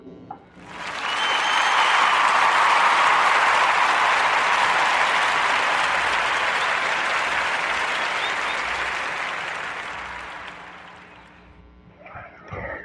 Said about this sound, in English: let's give a Warm Narrative podcast round of applause up for Mr. Leroy Harley